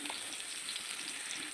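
Water poured into a pan of fried spices while cooking a tamarind fish curry gives a steady, soft hiss of sizzling and bubbling, close by and continuous, with no talk.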